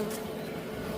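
Bees hum around their hives in an aggressive, frequently stinging colony, the buzzing a dense, steady drone that stays close and unbroken throughout.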